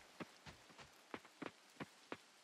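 Rain in the video game Coral Island, a sparse patter of separate droplet hits landing one after another at an uneven rhythm, quiet and close, with no talk.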